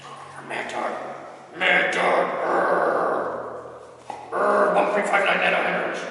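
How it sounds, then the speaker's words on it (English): A dog whimpers and yips in sighing, breathy bursts close by, rising in two louder stretches with brief lulls between, while people talk over it. "Vicious fucking dog."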